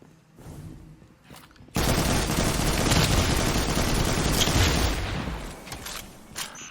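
Rapid video game gunfire in a combat mission erupts partway through as a loud, sustained automatic barrage, preceded by quieter mechanical game ambience and no talking.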